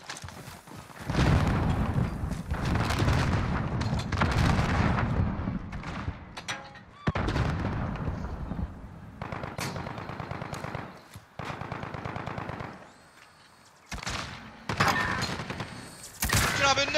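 Bursts of automatic gunfire in Call of Duty: Modern Warfare, loud and close, broken by short pauses, with faint voices underneath.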